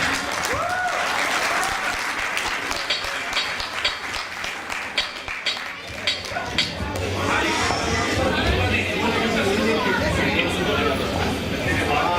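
An audience at a Holi celebration at Vishwa Hindu Mandir bursts into sustained applause to welcome a performer, with many hands clapping and crowd chatter mixed in.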